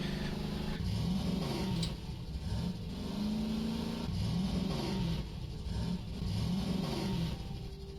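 Vehicle engine in the Voices of the Void video game after a rough wheelie, revving up and down in repeated swells over a steady rumble, loud and close, with no talking.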